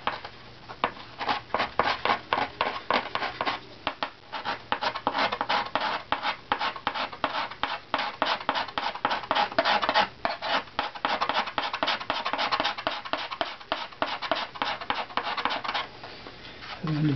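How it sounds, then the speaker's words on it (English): A steel scraper works a wooden violin top plate, making a long run of quick, rhythmic rasping strokes that are close and steady, with a brief pause near the end. "I'm kind of scrape in the direction of the low spots"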